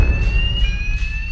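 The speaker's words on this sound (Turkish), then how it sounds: "alarm ötüyor" An alarm blares steadily inside a Minecraft game, a sustained high electronic tone with siren-like character that stays loud throughout over a rumbling game background, with no speech.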